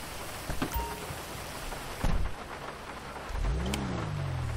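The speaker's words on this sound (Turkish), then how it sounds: "Ben oraya gidene kadar herhalde yağmurlar durur." Rain falls steadily during a storm in GTA 5, a dense hiss throughout, with a sharp thunder crack near the middle and a low rumbling engine rising toward the end.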